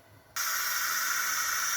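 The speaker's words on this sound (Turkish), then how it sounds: "Evet şimdi düdüklümüz kaynamaya başladı. Gördüğünüz gibi buharı çıkıyor." Steady loud hiss of steam jetting from a stovetop pressure cooker full of beans, starting abruptly after a quiet moment and continuing unbroken at constant strength.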